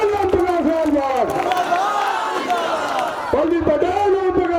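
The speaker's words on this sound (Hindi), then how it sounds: "आप लोग जोरदार ताली बजाकर उनका स्वागत करें" A rally crowd at an election meeting roars with cheers and whoops for a speaker, loud and sustained, with shouting voices rising and falling in waves throughout.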